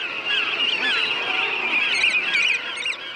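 Tens of thousands of seabirds, mostly murres, fill a remote granite crag off Newfoundland's east coast with a dense, continuous chorus of harsh, overlapping calls, loud and steady throughout with no talk.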